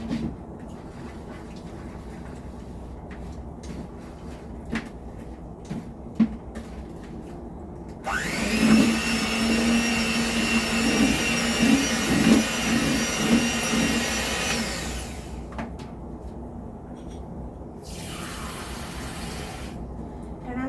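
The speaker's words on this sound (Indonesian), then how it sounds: "Nah ini aku pakai mixer yang kayak gini guys." An electric hand mixer whirs into thin cake batter for martabak, starting abruptly and running loudly for several seconds before stopping, followed by a shorter second burst; quieter kitchen clatter comes before it.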